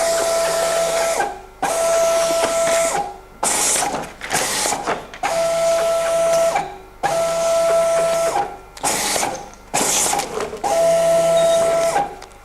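Label printer with an encoder running labels through in repeated bursts, each pass a steady whirring drone about a second long separated by brief clunks and pauses, loud and close with no talking.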